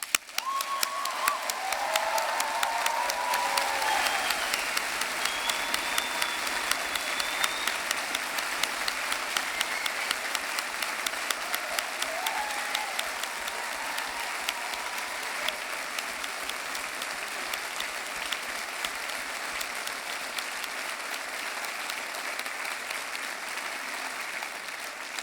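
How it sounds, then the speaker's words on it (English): A graduation ceremony audience breaks into a long, steady round of applause with a few cheers mixed in, a dense, even clapping that carries on for the full stretch and eases slightly toward the end. "I will end by asking you all to join me in giving a huge round of applause and a cheer"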